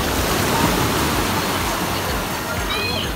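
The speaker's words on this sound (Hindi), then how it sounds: "The wave is coming." Ocean waves at a beach wash in as a steady, loud, broadband roar of surf that fills the whole moment, with no clear gaps between swells.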